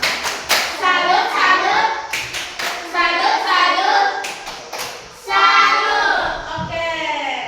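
A class of children chants and claps together in a rhythmic salute cheer for a student group, with sharp hand claps breaking through the sing-song chorus of young voices.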